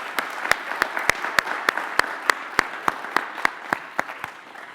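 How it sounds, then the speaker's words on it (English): Applause for students at a school convocation, a small group clapping with a few loud, evenly spaced close claps standing out over a lighter spread of hands, tapering off at the end. "Let's give our students another round of applause."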